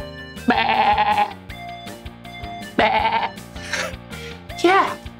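A sheep at the Fun Spot Orlando theme park gives several wavering bleats, spaced a couple of seconds apart, with voices talking around them.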